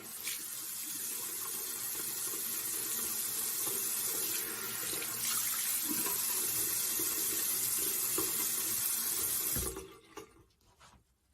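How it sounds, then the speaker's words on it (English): Cold tap water runs steadily into a sink while someone washes their face, a constant close hiss of flowing water that stops abruptly near the end, leaving only faint drips and handling. "I just wet my face with really cold water"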